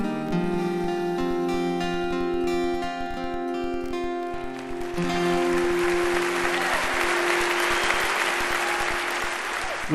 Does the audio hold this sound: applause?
yes